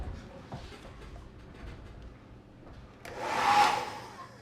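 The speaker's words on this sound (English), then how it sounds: "Doesn't have to be an expensive hairdryer." A hairdryer used to dry miniature paint switches on near the end, a sudden close, loud broadband rush of blowing air after a few seconds of quiet room tone.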